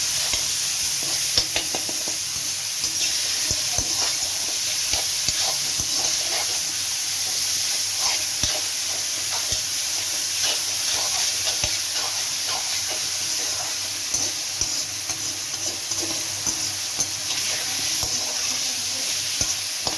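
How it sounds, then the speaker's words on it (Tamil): Onions and tomatoes sautéing in a pan for a fish curry, a steady bright sizzle and hiss running throughout with frequent small scraping stirs, close and fairly loud with no talking. "இப்போ தக்காளி போட்டுக்கலாம். தக்காளி போட்டாச்சு. நல்லா வதங்கணும்."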